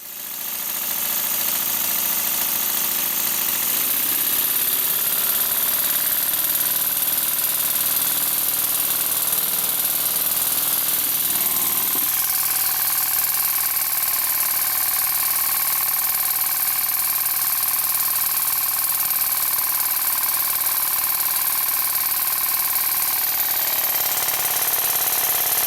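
A model steam engine runs fast in a steady, continuous mechanical chug with a fine rapid beat, its pitch stepping up partway through and holding evenly with no talking.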